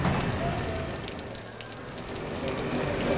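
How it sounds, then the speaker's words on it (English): Heavy rain falling: a dense, continuous hiss and patter that stays loud and even throughout, with no voices. "It's raining heavily."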